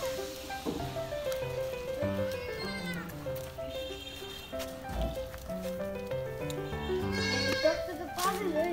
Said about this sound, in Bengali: একসাথে ছাগলগুলো থাকলে কত সুন্দর লাগে দেখতে।